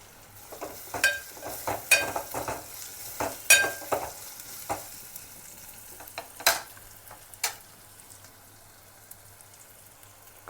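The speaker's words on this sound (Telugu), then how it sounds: "అల్లం వెల్లుల్లి పేస్ట్ పచ్చివాసన పోయేంతవరకు వేపుకోవాలి ఇప్పుడు కరివేపాకు వేసుకున్నాము" Ginger garlic paste and curry leaves fry in a pan, giving a quiet sizzle broken by sharp pops and crackles and a few stirring clatters, irregular and close.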